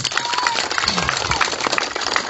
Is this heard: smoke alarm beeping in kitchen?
no